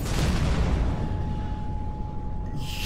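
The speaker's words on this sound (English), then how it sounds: "Big explosion over here!" A big explosion in a video game: a dense, loud rumbling roar that fills the whole moment, then cuts off abruptly, with a thin steady tone beneath.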